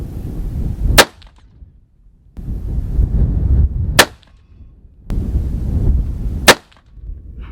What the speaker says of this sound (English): we're gonna shoot the Howa TSP-X at 100 yards